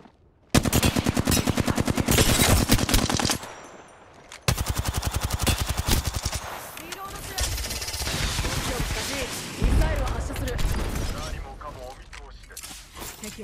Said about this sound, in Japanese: カーゴボットを撃ちましたよ。